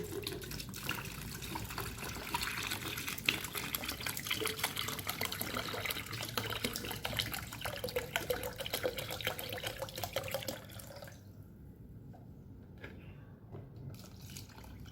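Water pours steadily into a container of brown sugar and other ingredients for homemade eco enzyme, a continuous splashing flow that stops abruptly near the end, leaving quiet.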